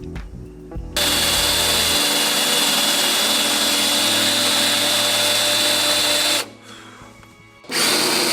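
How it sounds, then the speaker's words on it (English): A power drill bores a pilot hole for rock sliders on a 2007 Xterra, running loud and steady for about five seconds, then easing off briefly before spinning up again. "All right, now for the pilot hole."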